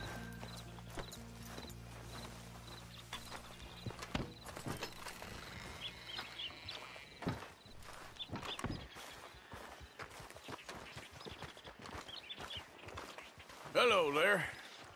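Horses walking in the Red Dead Redemption 2 video game, with soft, irregular hoof clip-clops at a quiet level, mixed under voices and other game sounds.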